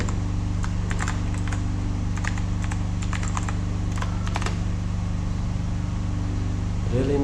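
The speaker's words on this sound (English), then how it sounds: "people, stop clicking" Computer keyboard typing and mouse clicking during coding work, heard as scattered bursts of sharp close clicks and keystrokes over a steady low machine hum, with no voices.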